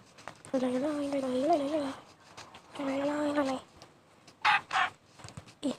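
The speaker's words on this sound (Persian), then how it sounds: "مرغ" Minecraft chickens clucking in short harmonic bursts, two longer warbling calls followed by a few sharp clucks, fairly close and clear with no talk over them.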